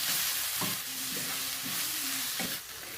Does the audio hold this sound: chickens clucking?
no